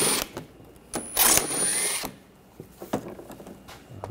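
A ratchet with an 8 mm socket working a nut under a BMW 328i xDrive 3.0L I6, producing short bursts of close clicking and ratcheting with pauses in between, fairly quiet in a garage.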